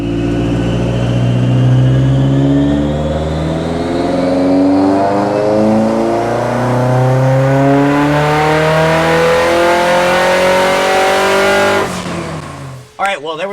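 A Datsun 510 with a built turbo SR20 engine revs hard on a dyno, its loud, steady roar climbing in pitch through a long pull before cutting off abruptly near the end.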